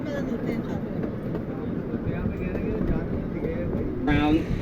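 A zoo tour train in Canada rumbles steadily along the tracks with low mechanical noise, a brief higher whine rising near the end; people talk faintly over it.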